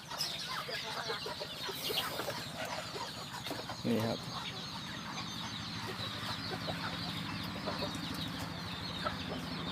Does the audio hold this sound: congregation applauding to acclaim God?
no